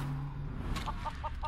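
Chicken clucking from a character polymorphed into a chicken in Divinity Original Sin 2, a short run of four evenly spaced clucks over steady game background sound.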